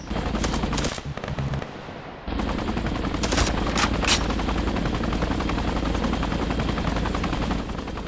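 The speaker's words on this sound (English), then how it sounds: "Another chopper flew overhead," Helicopter flying overhead in the Harekat 2 video game amid bursts of machine-gun fire, a loud steady rotor roar with rapid gunfire rattling through, a brief drop in the mix, then sustained noise to the end.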